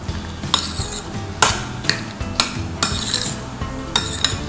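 A spoon stirring a fruit dessert with condensed milk in a metal bowl, with repeated sharp clinks and scrapes against the rim at an irregular rhythm, close and fairly loud.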